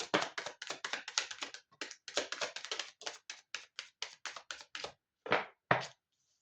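Quick, crisp slapping and tapping bursts of tarot cards being shuffled, in rapid runs with short gaps, ending in a few separate taps before silence.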